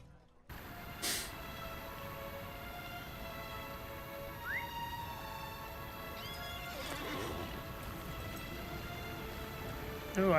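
A horse in a Middle-earth video game whinnies and snorts over clip-clopping hooves, with sustained game music tones and brief mechanical clicks underneath, fairly quiet overall.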